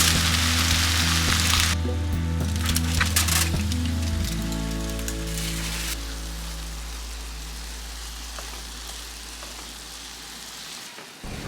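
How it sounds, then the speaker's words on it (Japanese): Mushrooms steam-frying in a covered pan over low heat give a steady, soft hiss and patter like light rain, with a low hum underneath and a few faint clinks early on, the sizzle fading gradually toward the end. "蓋をして弱火で約3分間蒸し焼きにしていきます。"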